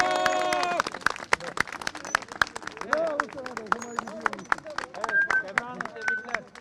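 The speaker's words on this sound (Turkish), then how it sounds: "Alkış arkadaşlar" A crowd gathered at a disability confederation's press statement breaks into scattered, sharp claps that keep going, mixed with several voices talking and calling out nearby.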